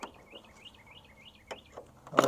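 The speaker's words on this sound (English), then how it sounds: "I wonder what that bird's saying." A small bird outdoors repeats a short series of rising chirps, faint and somewhat distant, while occasional clicks and a louder knock come from nearby work on a pickup truck.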